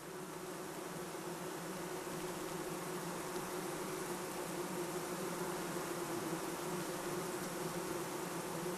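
Honey bees buzz inside their hive, a dense, steady, even hum of many wings with a low drone that never breaks, fairly quiet and with no voices.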